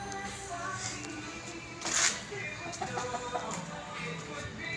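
Chickens in Balete clucking and calling, faint to moderate, with a brief louder squawk partway through over a low background murmur.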